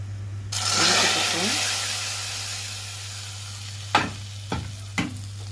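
Egyptian lentils stirred in a pot with fried garlic, a loud hissing sizzle that swells and then settles, followed by three sharp knocks of the spoon against the pot, over a steady low hum.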